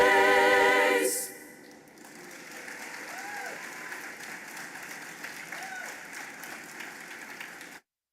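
An audience at a fall convocation breaks into steady applause after a loud opening burst that fades, clapping continuing evenly for several seconds before ending abruptly.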